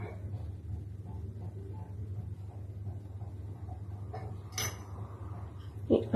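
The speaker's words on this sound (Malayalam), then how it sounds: "ഒരു ചീനച്ചട്ടി എടുത്തു, അതിലേക്ക് കുറച്ച് എണ്ണ ഒഴിച്ചു കൊടുക്കാം" A metal wok is handled on a stove for a cheera thoran, with faint clinks and scrapes over a low steady hum, then a brief sharper clatter as oil goes in and a final knock.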